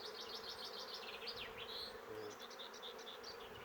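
A steady, dense buzzing of many honeybees close by around a hive frame while a swarm is being moved into a hive, continuous throughout with no voices.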